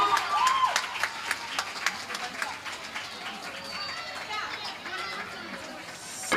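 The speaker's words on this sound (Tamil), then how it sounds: "நம்ம ஜாஸ்மின் ஆண்டி கைத்தட்டல் இவ்வளோதானா?" Applause from children, parents and teachers at a children's final-day programme, with scattered claps and excited kids' voices and chatter mixed in, moderately loud and fairly sparse throughout.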